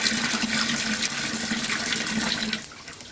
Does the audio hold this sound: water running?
yes